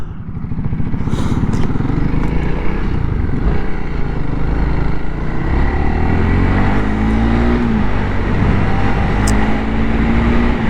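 A 2021 Honda CRF300L motorcycle rides along a road, its engine droning loud and steady throughout with a rising then falling pitch as it shifts, plus wind rush.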